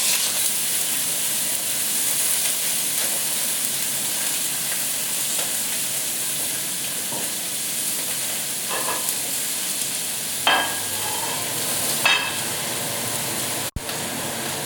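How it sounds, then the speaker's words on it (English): Snapper fillet frying skin side down in a hot pan, a steady broad hiss of sizzling with occasional pops and a sharp click near the end, close and continuous, no talking. "So now that I've just placed my snapper in the pan, of course you'll be cooking it skin side down"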